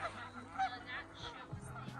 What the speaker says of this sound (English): All the geese.